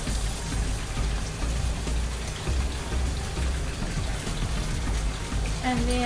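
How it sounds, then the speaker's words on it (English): A lab faucet runs steadily, water splashing into a sink in a continuous hiss that stays even throughout, with a brief clink near the end. "Turn on my faucet."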